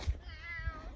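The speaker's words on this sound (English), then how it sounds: "And there's my cat. Here he comes." A male cat gives a single drawn-out meow, faint and close, with a couple of soft low thumps in the background.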